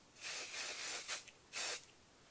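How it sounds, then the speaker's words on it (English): A can of permanent spray is sprayed onto paper in three close bursts of steady hiss, the first long, then a brief puff and a short final burst, with no talking. "And we are going to spray our paper."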